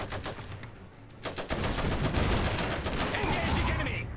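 Rapid bursts of small-arms and machine-gun fire from battle in the video game Iron Harvest, dense and continuous over a rumbling low background, with faint voices mixed in.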